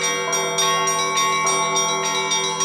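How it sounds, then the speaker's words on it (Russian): Church bells rung by hand by bell ringers peal in a dense, resonant clang, several bells striking in overlapping rhythm, loud and near with no voices. "показали слушателям всю глубину и красоту колокольного звона"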